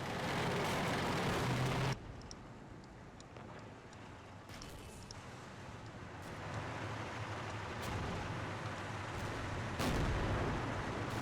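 Pershing tanks fire in a tactical war video game. A loud blast opens over a low rumble, then a steady battlefield drone follows, broken by a few sharp distant reports and a heavy boom near the end.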